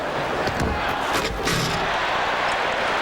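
A large arena crowd at the 1988 NBA Slam Dunk Championship roars steadily and loudly after a dunk, with a few thuds in the noise.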